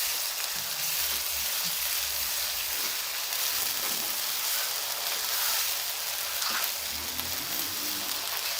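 Onions and yogurt frying in a pan for chicken keema with capsicum, a dense, steady sizzle that stays loud and even throughout, with faint stirring scrapes underneath.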